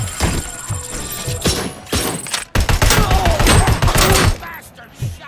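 Gunfire in RoboCop: Rogue City crackles in repeated bursts of close, punchy shots and thuds, alongside game effects and a shouting voice, with a sharp cut midway before the volley resumes loudly.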